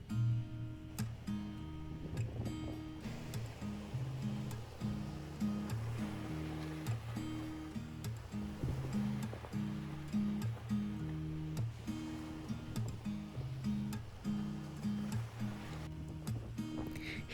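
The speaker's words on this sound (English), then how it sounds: "I could have watched these waves all day long." Ocean surf at high tide at Florence Beach on Cape Breton Island, with waves washing in and rolling repeatedly over a long stretch, heard fairly faint and distant with a low rumbling undertone.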